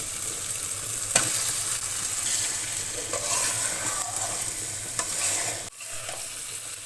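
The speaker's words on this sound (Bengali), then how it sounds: "এবার আমি মশলাটা ভালো করে ভাজা ভাজা করে কষিয়ে নেব।" Duck meat and spice paste being fried and stirred in a pan in a Bengali home kitchen, a steady sizzle with repeated scraping stirs throughout and no talking.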